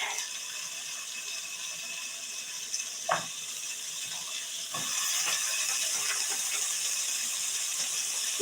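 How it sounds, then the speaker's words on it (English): A steady crackling sizzle of bacon frying in a skillet, close and continuous, growing a bit louder partway through with occasional small pops. "Get this bacon going in this skillet."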